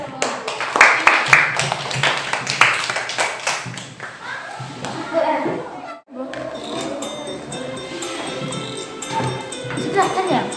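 Scattered clapping in a fourth-grade classroom, sharp irregular hand claps in short bursts around the first few seconds, then fading into children's voices and chatter in the room.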